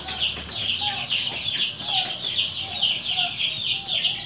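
Turkey chicks and chicken chicks peep and cluck continuously in a busy, close chorus of overlapping high chirps, steady throughout with a faint low hum beneath.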